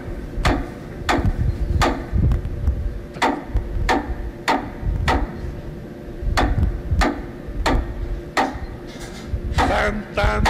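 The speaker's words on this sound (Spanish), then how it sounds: "pasó por una herrería donde oyó estos golpes" Sharp ringing hammer blows on metal at a blacksmith's forge, about a dozen evenly spaced strikes in a steady rhythm over a noisy background, with a brief rattle near the end.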